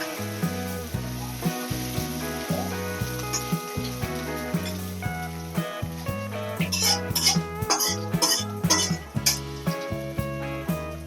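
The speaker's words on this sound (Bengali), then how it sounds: "আদা কুচি এখন এটাকে একটু ভালো করে ভেজে নেবো" Chopped ginger with cumin fries on low heat in a pan for a no-onion, no-garlic rajma dal, a soft sizzle and stirring under loud tonal background music.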